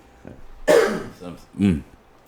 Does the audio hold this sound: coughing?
yes